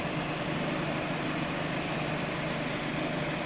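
A VW or Skoda car engine with emissions-system trouble (fault code P2463) idles continuously, a dense even rumble with no change in pitch or speed throughout.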